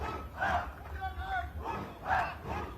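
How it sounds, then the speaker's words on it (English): Cheering crowd at a tennis match during the 38th National Games in Uttarakhand, India, rising in two loud surges of voices and shouts across a short stretch of noisy stadium ambience. "There you can see the sound of the cheering"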